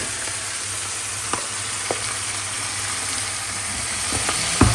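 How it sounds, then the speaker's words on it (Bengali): Vegetables and prawns fry steadily in a pan with a dense, continuous sizzle, punctuated by a few soft stirring clicks and scrapes near the end, with no voices. "এগুলো একটু ভেজে ভেজে লাল লাল হয়ে আসছে চিংড়ি মাছটাও ভাজা হয়ে গেছে"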